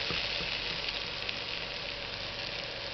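Gobi manchurian sauce fries in a pan with chili powder and soy sauce being stirred in, giving a steady close sizzle with faint stirring scrapes and no talking.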